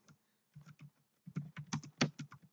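Fingers typing a portfolio name on a computer keyboard, a run of quick, close key clicks in irregular bursts that speed up toward the end, with no talking.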